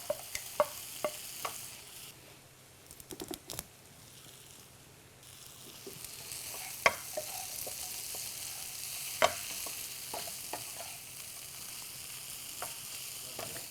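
Fried chicken is stirred into a masala made without onion or tomato in a hot pan, giving a steady close sizzle punctuated by sharp scraping clicks of the spoon against the pan.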